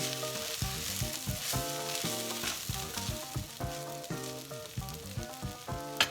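Shrimp fried rice stir-fried with honey and black pepper gives a steady close sizzle with scraping stirring, running continuously beneath louder background music.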